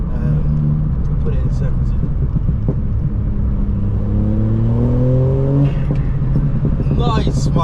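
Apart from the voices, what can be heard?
VW Up GTI car engine revving with turbo spool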